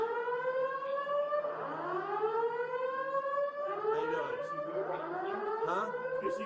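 A wailing alarm siren rises and falls in long sweeping tones, loud and continuous, with layered overlapping pitches and no talk over it.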